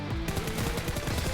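Automatic gunfire sprays in a PUBG Mobile club match, a loud, close, rapid burst of shots that runs continuously for the whole moment.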